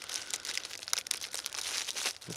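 Stretch plastic film crinkles and crackles close by in quick, irregular bursts of sharp rustling, with a brief crunch near the end and no talk.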